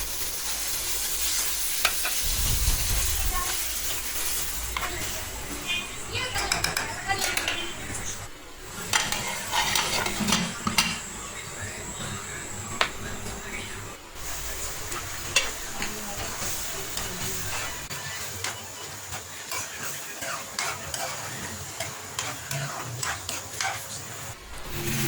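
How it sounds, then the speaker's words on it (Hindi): A spoon stirs chicken gizzards simmering in a pot of water, with steady scraping and clinking against the metal and a soft bubbling sizzle underneath, continuing for a long stretch at close range without talk. "साथ साथ चमचा चलाती जाऊंगी।"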